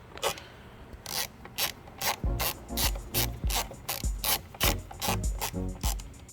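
A ratchet clicks in quick, uneven bursts of close, crisp pawl ticks while loosening a Torx bolt on the front turn signal of a 2020 Triumph Street Triple R.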